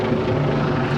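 A helicopter passes overhead, its rotor and engine a loud, steady roar that fills the whole moment without a break, with no voices heard.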